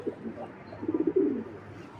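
Pigeons on a farm coo nearby in a short burst of pulsing, throaty notes, fairly quiet and heard without speech.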